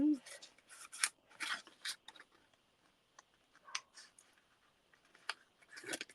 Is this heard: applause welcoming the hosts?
no